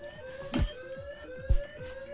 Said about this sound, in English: hold on, this is the alarm